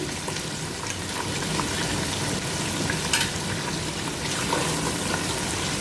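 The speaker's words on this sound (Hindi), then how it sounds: "मैं इसे इसमें ऐड कर दूंगी ऑयल के अंदर। ऐड करूंगी मैं इसके अंदर लहसुन अदरक का पेस्ट 1 टेबलस्पून।" Boneless beef with ginger garlic paste frying in hot oil makes a dense, continuous sizzle with occasional light clicks of stirring, close by and without talk.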